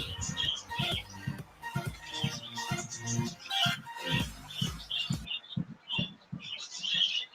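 Pet birds squawking and chirping in a room, a busy run of loud, overlapping high calls with short repeated bursts throughout, close to the listener.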